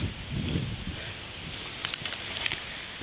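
Wind rumbles and gusts against the microphone in low bursts on a mountain trail at Crowders Mountain State Park, with faint rustling and a few light clicks.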